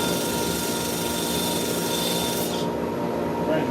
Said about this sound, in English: sand that, and it just doesn't want to sand. This is with 80 grit.